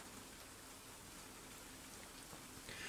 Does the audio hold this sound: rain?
yes